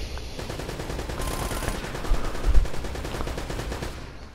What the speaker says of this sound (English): What was that turret guy shooting at? At least it sounded like a turret.